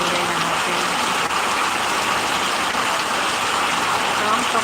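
Heavy monsoon rain pours steadily in Bengal, a loud, even hiss of water that fills the whole stretch without a break.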